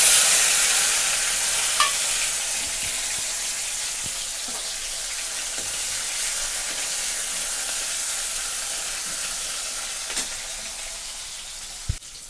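Chopped tomatoes hit hot oil in a pan while cooking a spinach and potato mixed bhaji, setting off a loud, steady sizzle that holds for about twelve seconds with a few sharp pops and clinks along the way.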